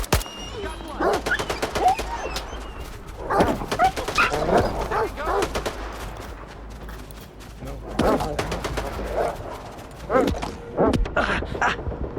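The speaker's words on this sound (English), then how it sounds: "Plenty of dogs, though." Dogs in the video game S.T.A.L.K.E.R. 2 barking and whimpering in repeated bursts, mixed with bursts of gunfire and other game sounds.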